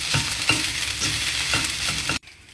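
Sinangag, Filipino garlic fried rice, sizzles steadily in a hot pan while a utensil stirs and scrapes it in regular strokes, close and alone, then the sound cuts off abruptly.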